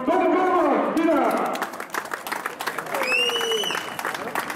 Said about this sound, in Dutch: hier een applaus, Tom Govaert, winnaar!